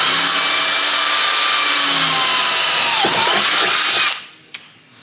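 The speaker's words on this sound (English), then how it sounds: "to just drill a hole" A power drill bores a hole into a Land Rover Defender door, a loud, close, continuous high whine that runs for about four seconds and then stops, followed by a short clatter.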